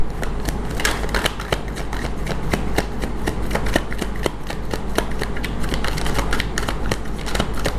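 A deck of tarot cards being shuffled close up, with rapid repeated riffling bursts in a steady rhythm and no talking.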